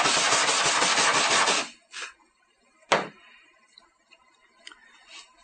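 An electrode on a DF900 AluSpot aluminum dent repair welder is cleaned with a dense, steady rasping rub close up for under two seconds, followed by a couple of faint knocks and one sharp tap.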